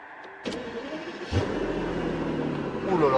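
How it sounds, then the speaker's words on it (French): A full-option V12 car imported from Japan is started and revved, a sharp cranking burst giving way to a steady, rising engine drone that swells louder toward the end, heard close up. "C'est un gros V12. Donc écoutez le son, s'il vous plaît."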